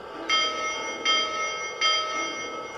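Lionel model train locomotive sound system ringing its bell, three evenly spaced bright metallic dings, each with a lingering ring, close and clear against a faint background hum.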